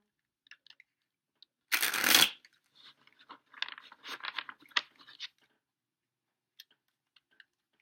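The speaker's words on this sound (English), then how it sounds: "I forget that I need to keep talking whenever I'm shuffling cards and stuff" Playing cards being shuffled: a loud riffle burst, then a series of softer snaps and taps as the deck is squared, followed by faint clicks.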